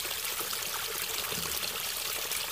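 Spring water pours steadily out of a mountainside into a gravel-backfilled collection system sealed with clay, a continuous close trickling and splashing with no pauses and no voices.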